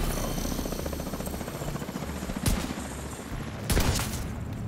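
Rapid bursts of Regulus exotic pistol fire in The Division 2 shooter game, dense and continuous with two louder sharp blasts standing out, set against constant combat noise.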